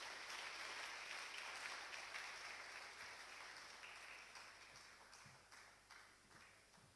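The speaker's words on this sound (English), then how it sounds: "a round of applause for our speaker" An audience at a formal memorial lecture applauds the speaker with dense, sustained clapping that slowly fades over several seconds.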